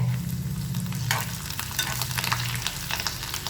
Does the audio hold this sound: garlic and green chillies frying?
yes